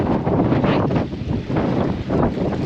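Strong wind buffeting a handheld camera outside a car on an icy Westfjords road, loud continuous rumbling gusts that swell and dip, with no speech.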